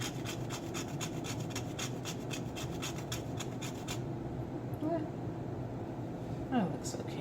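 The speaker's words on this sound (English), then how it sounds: "Just grate some chocolate over here." Chocolate grated by hand for a low-carb mug cake, giving a rapid, even rasping scrape for about four seconds, followed by quieter scratching and soft kitchen handling.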